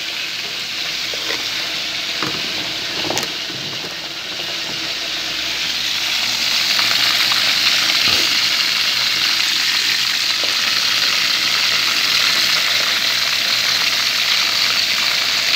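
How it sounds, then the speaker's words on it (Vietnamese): Chicken wings frying in fish sauce over high heat, a steady, loud sizzle and crackle with occasional stirring clinks, growing slightly louder partway through. "Ký cánh gà chiên với nước mắm nè"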